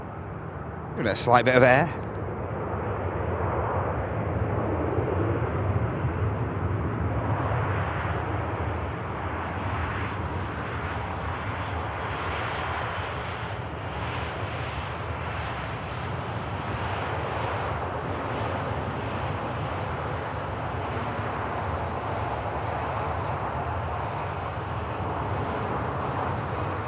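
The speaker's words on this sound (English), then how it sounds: "Aircraft touching down from Copenhagen." An aircraft from Copenhagen touching down at Manchester Airport, a moderate, steady rumble of engine and rushing air running throughout after a brief sharp knock near the start, with a voice talking over it.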